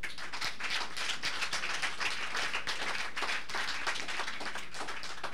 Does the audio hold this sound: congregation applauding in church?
yes